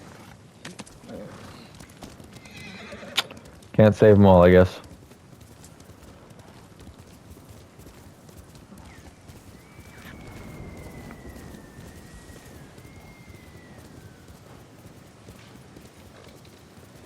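A horse in the video game Ghost of Tsushima: a short, loud burst of hoof clatter and a brief whinny over soft outdoor ambience, with someone talking before and after.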